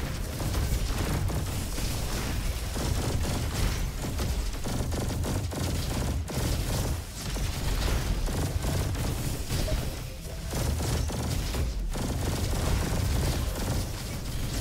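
Continuous barrage of explosive shots from the Pulsar Rifle in the video game Roboquest, loud and dense with booming blasts layered over rapid fire throughout, no talking.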